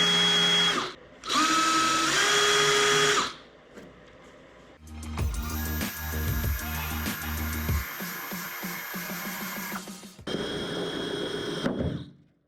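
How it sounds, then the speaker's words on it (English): A power drill whirs in several bursts, with short pauses between, and a rougher grinding stretch in the middle as the bit works through the metal of a Honda S2000 car trunk. "I'm gonna put a little center drill spot in there for the drill bit"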